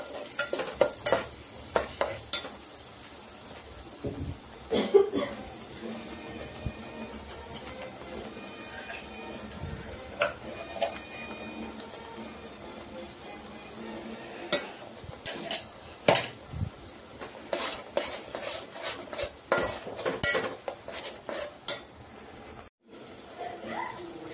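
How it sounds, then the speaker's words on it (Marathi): Ground masala paste roasting in a pan for a crab curry, with repeated scraping and stirring clatters of a spoon against metal over a soft background sizzle, sharp knocks coming in uneven bursts. "वाटण मसाला भाजून घेऊया चांगलं."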